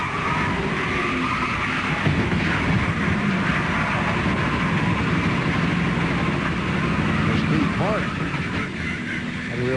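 Onboard engine roar from Michael Waltrip's NASCAR stock car at race speed, a loud, steady, dense drone that fills the whole stretch with little variation, with faint commentary underneath.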